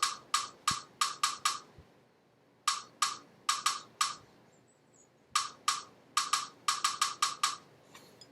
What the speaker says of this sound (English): snare drum part sounds like this.